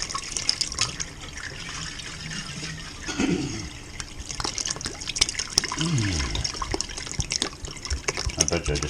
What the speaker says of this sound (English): I'm just going to strain it out and splash it all over.